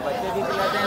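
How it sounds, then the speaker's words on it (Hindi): A goat with three kids bleats at the Safdarganj livestock market in a brief, wavering cry. Busy market talk goes on around it. "ये देखिए भाई तीन बच्चे वाली बकरी है।"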